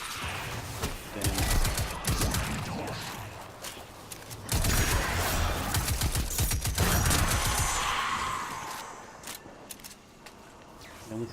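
Destiny 2 weapons fire in dense clusters of loud, sharp gunshots, rapid bursts that come and go over roughly eleven seconds, with action and movement sounds between the volleys.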